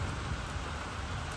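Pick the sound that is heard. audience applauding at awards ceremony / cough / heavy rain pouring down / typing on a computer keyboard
heavy rain pouring down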